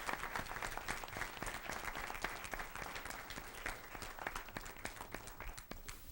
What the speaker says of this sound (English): Let's give these wonderful students a round of applause.